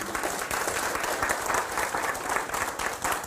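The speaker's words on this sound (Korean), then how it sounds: "박수 한번 치세요." A lecture audience claps after a mention of the Park Chung-hee foundation, a steady, moderately loud round of applause with a slight rhythmic pulse.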